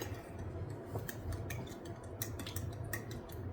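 Donut batter made with sourdough discard and blueberries is stirred in a bowl, giving a steady run of soft scraping and light clinks of a utensil against the bowl, close by and fairly quiet, with no talking.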